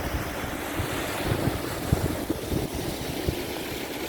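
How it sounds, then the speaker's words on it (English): Fast water pours along the Manor's Moat on the River Witham near Grantham, a loud, steady rushing roar close by, with low wind thumps on the microphone and no speech. "Quite a fast river as well."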